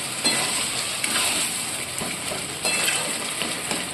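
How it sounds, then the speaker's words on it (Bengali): Boiled peanuts and potatoes are sautéed with ginger and cumin in a pan, giving a steady close sizzle with occasional stirring scrapes and no voices. "এরপর এটা খুব ভালো করে কষিয়ে নিতে হবে"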